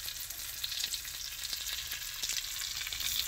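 Potatoes fry in a pan of hot grease for a sweet potato dish, giving a steady, close hiss of sizzling with a few faint pops and clicks throughout and no voices.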